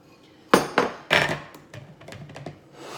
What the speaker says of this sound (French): je vais commencer par hacher les artichauts que j'ai égouttés au préalable